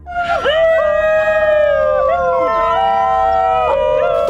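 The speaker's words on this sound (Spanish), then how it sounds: "Es el perro cantor de Nueva Guinea, un raro perro salvaje conocido por su voz inusual" A New Guinea singing dog lets out a loud, close, sustained howl with an eerie, melodic quality, the pitch wavering and shifting between tones.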